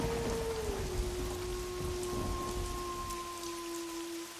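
Steady rain falling with thunder rumbling low in the background, a constant close hiss of drops under a sustained tonal hum.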